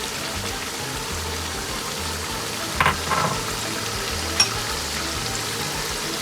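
Masala sizzling and frying in a pot for chicken biryani, with steady hiss throughout and a couple of brief scraping stirs of a spoon partway through; no talking.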